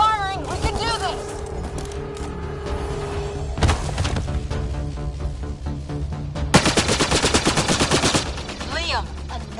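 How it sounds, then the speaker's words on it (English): Rapid automatic gunfire in the sci-fi shooter Mass Effect Andromeda, loud and sustained bursts throughout, growing denser near the end, with combat voices and music mixed underneath. "Just keep firing, we can do this!"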